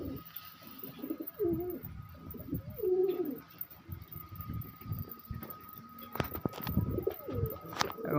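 Pigeons, including a leather-colored Kalshira breed in breeding season, coo in low rolling calls, several overlapping close by, amid some rustling and a faint background hum.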